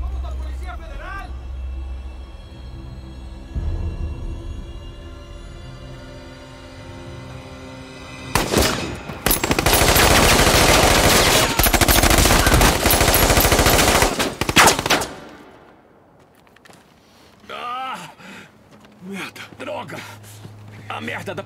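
Sustained automatic gunfire from a Mexican police ambush in a film: a dense, loud burst of rapid shots lasting several seconds, preceded by shouting and followed by more urgent voices and scattered sounds.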